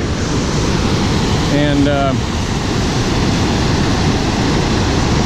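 Raging river water pours over the Big Bend Dam above Lake Oroville in a loud, steady roar, with a brief higher tone partway through and a single spoken word.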